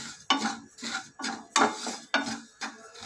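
Ajwain seeds dry roast in a pan over a medium flame, with a handful of distinct rhythmic scraping and rustling strokes as they are stirred, close and fairly loud with no talking.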